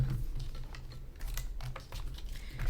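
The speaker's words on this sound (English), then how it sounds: "this is an edge punch, and I'm gonna trim off" An edge punch trims a strip of paper in a quick series of light, dry clicks and crunches, close and quiet, with no voices.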